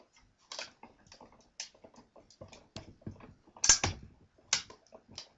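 A Sizzix die-cutting machine cranks a picture through a puzzle-maker die, giving a run of small dry clicks and ratcheting ticks, close and fairly quiet, with a couple of sharper snaps and no talking.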